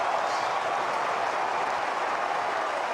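Cheering and applause from the Kangaroos cheer squad at an Australian football match against Adelaide, a dense, steady roar of crowd noise heard at a distance, with no break.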